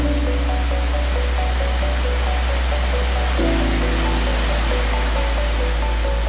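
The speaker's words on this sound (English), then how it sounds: "On the lower level, you can find the garden in this waterfall." A waterfall in a Singapore heritage Chinese garden gives a loud, steady, broadband roar of falling water that fills the whole stretch without a break.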